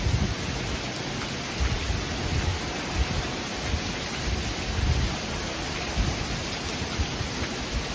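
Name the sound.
rain from a summer evening storm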